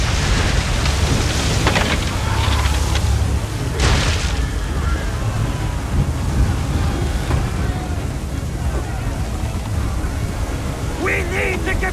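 A violent storm at sea in Assassin's Creed III, heard as a steady, dense roar of wind, rain and crashing waves with heavy booms early on, continuing unbroken for the whole stretch.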